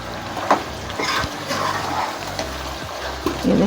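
Masala sizzles and fries steadily in a pot while Bangali gosht is cooked, a continuous close crackle with a few soft clinks of a utensil against the metal.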